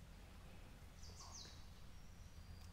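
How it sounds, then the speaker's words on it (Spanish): Birds chirp outdoors in a few faint, brief calls over a quiet background hush, distant and soft, with no voices. "Aquí hay un montón de pájaros que podéis oír."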